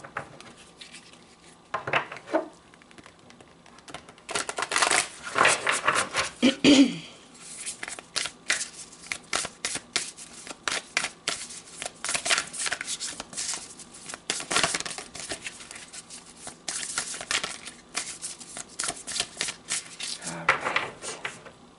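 Tarot cards are shuffled by hand during a daily reading, giving clustered riffling and rustling bursts at close range, with faint voice sounds in places.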